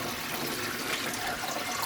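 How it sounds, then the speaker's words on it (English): Water rushes in from a pump filling a large aquarium tank, a steady broadband gushing and churning sound, moderately loud and continuous with no voices. "It's water rushing in."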